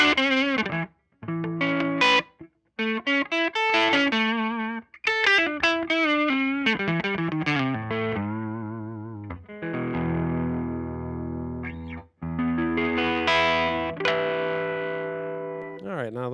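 A Stratocaster on its neck pickup played through a Catalinbread Dirty Little Secret III 18V distortion pedal, with treble dialed up: loud, sustained distorted chords and single notes, broken by short pauses.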